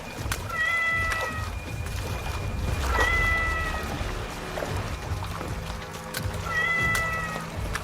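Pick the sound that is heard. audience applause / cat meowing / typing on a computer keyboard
cat meowing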